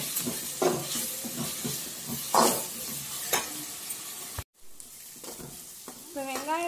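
Onions sizzle steadily in a pan, with scraping stirs now and then, the frying fairly close and soft; a brief cut into quieter sizzle follows near the end.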